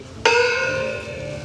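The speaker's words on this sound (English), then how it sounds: "let's go ahead and ring this gong of resounding resonance" A single strike on a gong at a Universal Studios theme park rings out with a sudden metallic hit, then a bright, sustained shimmer that slowly fades, loud and close with no talking.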